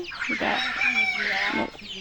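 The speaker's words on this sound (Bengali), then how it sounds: "কোথায় কোথায় থেকে আসতেছে মুরগিগুলা।" Chickens on a rural village farm cluck in a close, busy burst, with several overlapping calls and a drawn-out squawk running through the two seconds.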